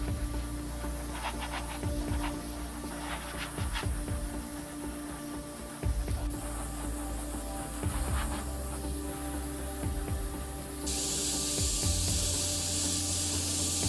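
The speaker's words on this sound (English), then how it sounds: "So I'm a fair way away from the surface, just so that it makes it easier to control the spray." An airbrush sprays transparent black paint onto a helmet from a fair distance, giving a steady airy hiss with faint scratchy rubbing and handling noises throughout.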